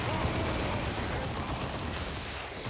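Missile explosions in the Dawn of War 2 battlefield, a continuous wash of blasts and crackling debris mixed with mechanical clatter, loud and dense from start to finish with no clear gaps.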